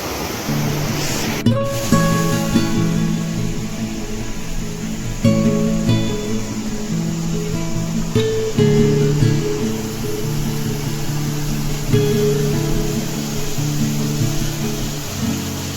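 Water rushes under pressure at Tahuli waterfall near Ambernath, making a steady, loud, broadband roar with faint surges.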